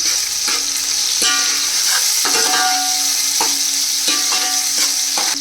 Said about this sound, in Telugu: ఈ ఆనియన్స్ గోల్డెన్ బ్రౌన్ కలర్ వరకు ఫ్రై అవ్వాలి